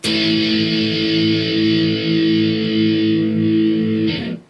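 A single distorted electric guitar chord strummed downward, ringing out loudly and sustaining for about four seconds before being cut off.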